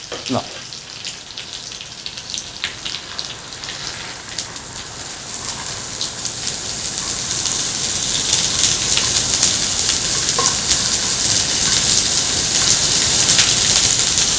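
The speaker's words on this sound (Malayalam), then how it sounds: "അപ്പോൾ നമ്മുടെ കടുക് എല്ലാം റെഡി ആയിട്ടുണ്ട്. അപ്പോൾ ഇനി നമുക്ക് നമ്മുടെ പയർ ഇട്ട് കൊടുക്കാം." Long green beans hitting hot oil with popped mustard seeds in a Kerala-style stir fry, heard as a dense crackling sizzle that grows louder and fuller midway and then holds steady.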